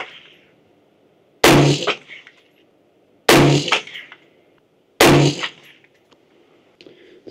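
Three sharp AR-15 rifle shots fired at a target outdoors, evenly spaced about two seconds apart, loud and close, each with a brief ringing decay and quiet between.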